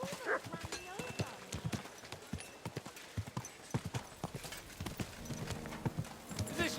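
Horse hooves clip-clop in the video game Kingdom Come: Deliverance II, a steady run of close, sharp hoof strikes with a brief whinny, under spoken dialogue.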